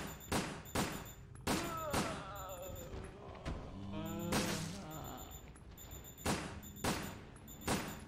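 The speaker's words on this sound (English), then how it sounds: "Okay, then let's shoot him. Shoot the bastards." Gunfire in the PS2 shooter Resident Evil: Dead Aim, several loud, sharp shots in separate bursts with ringing tails, set in an underground groundwater area.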